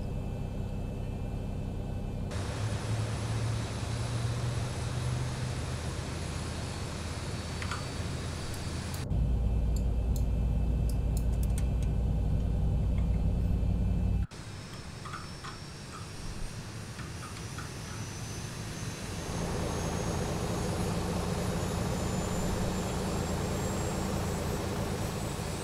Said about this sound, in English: start engine number 1